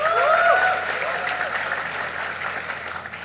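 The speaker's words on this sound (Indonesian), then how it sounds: "Tepuk tangan lagi dong" Applause from a live audience at an event celebrating a channel milestone, a dense steady wash of clapping over a few seconds. It is joined briefly at the start by cheering or whooping and fades slightly toward the end.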